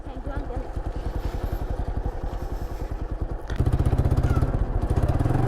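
A motorcycle engine idles and runs nearby with a rapid, rhythmic chugging that grows louder and heavier partway through, as children are helped onto the bike, with people talking over it.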